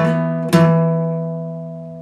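An electric guitar plays an intro riff at full speed, a quick pair of close, bright notes with the second ringing on and slowly fading.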